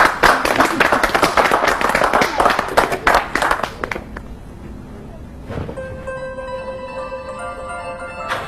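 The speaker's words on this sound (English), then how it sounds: "I think we should all give Simon a round of applause off the trading floor" Audience applause on a trading floor, dense steady clapping for about four seconds that thins out and fades, followed by a quieter stretch and a sustained electronic tone near the end.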